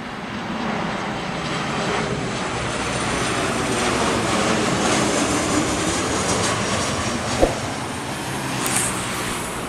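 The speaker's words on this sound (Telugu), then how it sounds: "Boeing 737 fly Dubai, Dubai to Hyderabad, Hyderabad airport landing." A Flydubai Boeing 737 lands at Hyderabad airport, its jet engines producing a broad, steady roar that holds at a constant level throughout, without speech.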